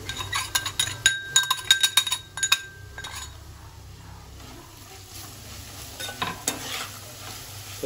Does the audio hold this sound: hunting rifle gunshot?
no